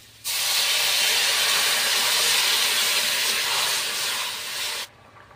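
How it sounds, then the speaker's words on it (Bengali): Potato curry in a hot pan hisses loudly once water is poured in, a steady steamy sizzle that starts abruptly, holds for several seconds and then cuts off. "তরকারিটা কিন্তু ফুটছে আমার ভালোভাবে"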